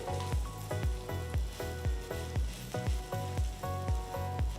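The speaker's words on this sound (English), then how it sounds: "place it on the hot tawa and gently press it" A vegetable mini pancake pressed onto a hot tawa over a medium flame sizzles steadily and close, the hiss running continuously beneath a rhythmic musical pulse.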